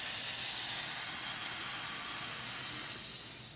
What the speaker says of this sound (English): And there you go, there's the steam.